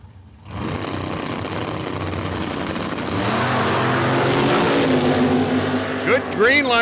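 Drag racing cars launch side by side at a green light at Cordova Dragway, a roaring engine rising into a hard, loud acceleration, with commentary over it.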